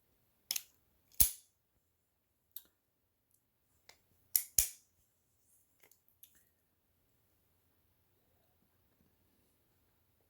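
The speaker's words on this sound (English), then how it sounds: "Just sometimes I like to play with my guns, especially while I talk." Guns being handled indoors: sharp, isolated clicks and snaps of metal parts, a few spaced irregularly across a quiet background, some in quick pairs, close to the microphone.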